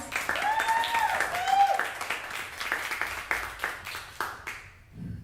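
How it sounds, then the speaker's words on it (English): Applause from an audience at a vocal performance clinic, welcoming a performing artist; a burst of clapping that rises and then tapers off over several seconds, with some overlapping voices and sung tones mixed in. "Please give him a big applause."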